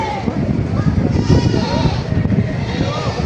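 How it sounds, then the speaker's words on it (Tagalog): A goat bleats among a crowd of livestock at a goat market, calls rising over constant people talking and background chatter. "Pogi oh. Gandang kambing. Barako to."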